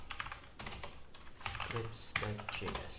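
Rapid, uneven clicking of computer keys being typed on a keyboard, close and fairly clear, in short bursts with brief pauses.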